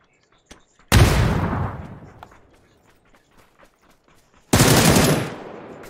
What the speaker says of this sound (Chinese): 城里有人开枪，三狙